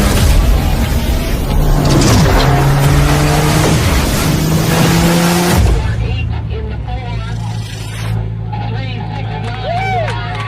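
An AA blown gas streamliner race car makes a Bonneville salt flats speed run, a loud, dense roar for about six seconds that then falls away to a lower rumble and distant tones, with voices underneath.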